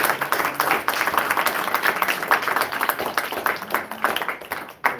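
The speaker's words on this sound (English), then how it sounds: "let's give a big round of applause to his audience" A student audience at a university talk gives a dense round of applause, many hands clapping together in a steady, fairly loud wash that fades slightly at the end.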